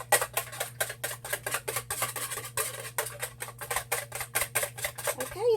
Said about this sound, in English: I'm going to kind of beat these with my French whisk